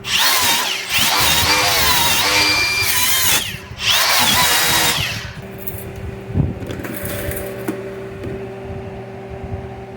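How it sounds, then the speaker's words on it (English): Wire wheel on a power tool brushing a fresh weld on metal, a loud grinding whir in bursts for about five seconds, then the tool spins down and quieter workshop hum remains. "By chipping, I mean with a wire wheel."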